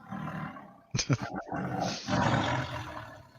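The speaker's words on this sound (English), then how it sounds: "I just wanted to tiger roar, and I clicked on something." A recorded tiger roar sound effect plays loudly and close, a short burst of growls followed by a long, rasping sustained roar, with a faint voice briefly under it.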